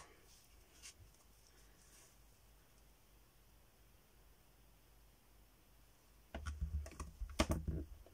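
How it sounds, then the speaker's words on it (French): A VersaMark ink pad is dabbed onto a paper box. After a long near-silent stretch, a cluster of soft, close tapping and pressing knocks sounds at the end. "Je vais venir appliquer aléatoirement de la VersaMarque."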